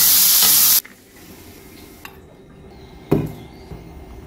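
Missi roti cooks with ghee on a pan, opening with a loud hiss that cuts off sharply, followed by quiet crackling and a couple of faint clinks from utensils.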